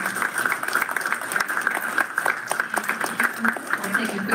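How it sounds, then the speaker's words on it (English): A board meeting audience gives a round of applause, steady dense clapping that carries on evenly for several seconds at moderate level. "give a round of applause,"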